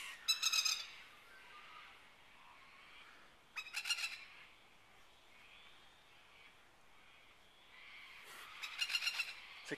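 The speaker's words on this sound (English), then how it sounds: "Beautiful birds. Beautiful birds." Plover birds call in bursts of high, sharp chirps, a flurry at the start, another a few seconds later and a third near the end, with faint outdoor ambience between.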